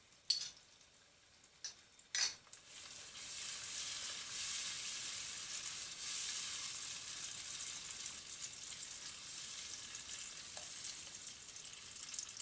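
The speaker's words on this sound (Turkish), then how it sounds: "Domatesler de yaklaşık 1 dakika kadar kavrulunca" Tomatoes roasting in a pan with sugar and salt for oğmaç soup give off a steady, hissing sizzle that starts after a few brief clinks and continues evenly, close and fairly soft.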